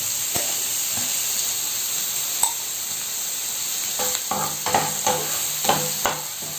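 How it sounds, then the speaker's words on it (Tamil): Ingredients sautéing in a pan for coriander rice, a constant loud sizzle with a run of rhythmic spatula scrapes and taps against the pan in the later part. "கொஞ்சம் நேரம் இது வதங்கட்டும்"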